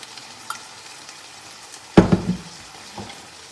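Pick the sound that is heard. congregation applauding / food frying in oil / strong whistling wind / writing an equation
food frying in oil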